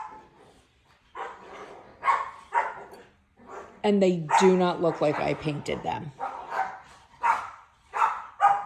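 Pet dogs playing together with toys indoors, letting out a burst of barks and yips in the middle while someone talks before and after.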